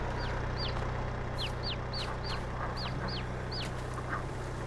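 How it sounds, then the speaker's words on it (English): Chicks chirping in Farming Simulator, a rapid series of short high chirps repeating steadily over a constant low hum, moderately loud and without talk. "I can hear the chicks chirping away."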